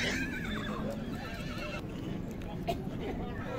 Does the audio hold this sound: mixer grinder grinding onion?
no